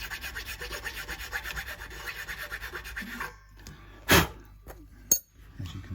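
Nut on an Encore Strat guitar being filed down during a refurbishment, steady rhythmic rasping strokes close by for about three seconds, then quiet with a couple of sharp clicks or knocks.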